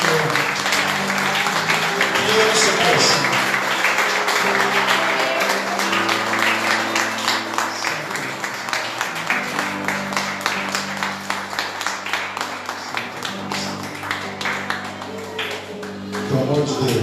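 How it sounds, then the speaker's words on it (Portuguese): Congregation applauding during a Portuguese-language church devotional, steady clapping over sustained organ or keyboard chords, gradually thinning into more scattered claps toward the end. "Você pode aplaudir o Senhor?"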